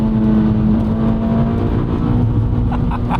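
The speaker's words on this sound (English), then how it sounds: "I just kissed the rev limiter." Toyota Corolla T Sport hot hatch engine pulling hard on the road, a loud steady high-revving drone touching the rev limiter, heard from inside the car with no talk.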